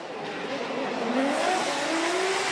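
Formula Drift Japan cars, a Cusco Racing GR86 and a TGR Racing Z4, drifting on track, with a loud continuous engine roar and rising tire squeal.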